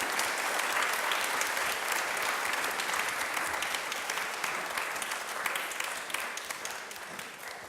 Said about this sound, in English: please join me to give a big round of applause to welcome our guest of honor